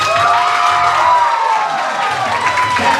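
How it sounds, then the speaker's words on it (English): Audience applause and cheering at a senior recital, with a dense, steady wash of clapping and excited crowd voices filling the whole stretch, and tonal sounds running underneath. "Big applause and everyone cheering for us!"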